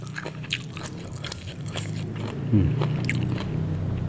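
Close-up crunching and chewing of crisp apple snail, a few brittle bites over a steady low car engine hum.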